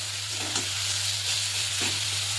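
Chopped ash gourd sizzles and fries steadily in a pan over medium heat, with a few soft scrapes as it is stirred, close and continuous throughout.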